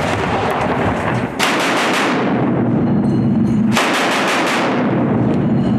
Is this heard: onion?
no